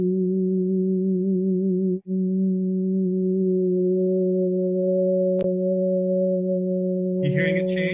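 A synthesized vowel-like tone holds steady and loud, with a brief dropout and a click partway through; near the end, upper harmonics are added and the timbre shifts from an oo toward an o.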